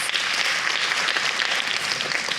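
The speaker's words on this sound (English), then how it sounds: "A round of applause for yourselves." An audience of kids at the Indomie Heroes Award event claps in sustained, dense applause, loud and steady throughout with no pauses.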